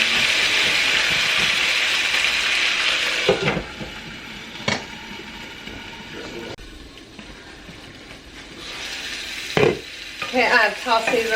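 Vegetables sizzle in a hot pan for a budget family meal, with a steady frying hiss at first, then a few sharp scrapes and clatters from stirring, and brief talk near the end.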